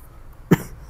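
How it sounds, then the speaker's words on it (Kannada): A single short, sharp cough, close and sudden, rises out of quiet room background in a dusty house where an acrid smell hangs, then fades within a fraction of a second. "ಒಂಥರ ಕೆಮ್ಮು ಏನ ಆಗ್ತಿತ್ತಣ್ಣ"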